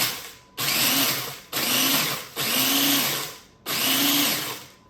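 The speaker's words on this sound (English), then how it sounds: "this is kind of like my little mini food processor" A small mini food processor grinds crust into fine crumbs, running in four loud pulses of about a second each, a harsh close whirring motor with brief gaps between bursts and no talk.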